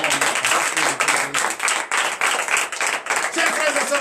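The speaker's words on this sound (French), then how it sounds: "Donc je vous demande d'applaudir très fort." A congregation at a Beninese Monday morning prayer service claps loudly, a dense rhythmic burst of hand claps with pulsing accents, under voices calling out over the applause.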